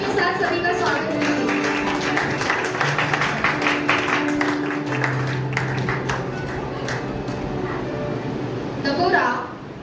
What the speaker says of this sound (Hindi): ताली के साथ सभी का स्वागत है।